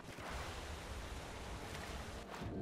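Water in the video game Skyrim gives a steady, washing roar of surf and waves. A continuous broadband rush with no speech holds level throughout.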